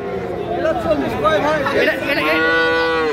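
A roughly three-and-a-half-month-old Friesian or crossbred heifer calf moos loudly and close at a Raniganj cattle market, with a long drawn-out bellow near the end over the chatter of people talking nearby.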